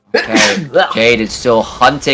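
A single sharp sneeze bursts out right at the start, then a commentator talks quickly over an esports match broadcast.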